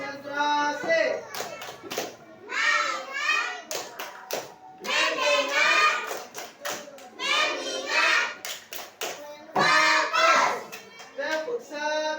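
Children in an Indonesian classroom clap out a rhythmic hand-clap chant, crisp bursts of clapping alternating with chanted children's voices in a steady call-and-response pattern.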